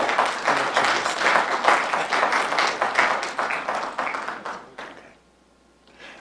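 An audience at a meeting bursts into dense, loud applause that stays full for about five seconds, then cuts off abruptly into near-silence with a brief stir at the end.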